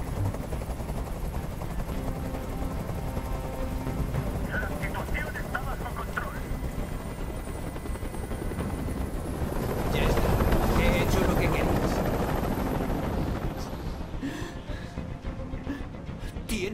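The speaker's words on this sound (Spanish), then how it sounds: "¡Dile a ese helicóptero que se vaya de aquí!" A hovering helicopter in the video game Detroit: Become Human makes a continuous rotor and engine roar that swells louder near the end, with voices talking over it.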